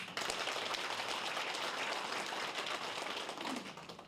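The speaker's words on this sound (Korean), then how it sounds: "우리 백지원 시장님께 신찬 박수 한번 부탁드리겠습니다" An audience at a town meeting with citizens applauds the mayor, a steady, fairly faint wash of many hands clapping that holds throughout and tapers slightly at the end.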